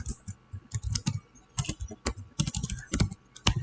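Fast typing on a computer keyboard up close, bursts of crisp key clicks in an uneven rhythm with short pauses, loud and clear with no talk.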